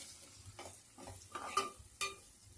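Onion and tomato sautéed in a pan, quiet frying hiss broken by a few distinct scraping stirs of a spoon against the pan, close and fairly soft.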